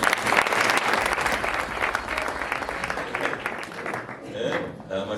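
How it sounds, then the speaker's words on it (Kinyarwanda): A crowd at a church ministry gathering breaks into loud, dense applause that stays strong and continuous, easing slightly toward the end, with voices mixed in. "Mukomere abatabaza amashyi."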